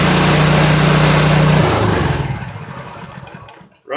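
Craftsman snowblower small engine running after carburetor cleaning, loud steady idle close by that winds down and fades out, then a brief catch at the end.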